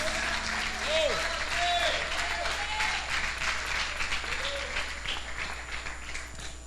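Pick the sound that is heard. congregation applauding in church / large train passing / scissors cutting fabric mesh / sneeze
congregation applauding in church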